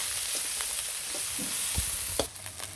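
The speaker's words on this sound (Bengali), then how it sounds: "পেঁয়াজ লাল লাল করে ভেজে নিলাম" Onions and small fish sizzle in hot oil for a Bangladeshi shapla chorchori, a steady broadband frying hiss with a few stirring clinks and scrapes, close and continuous with no talk.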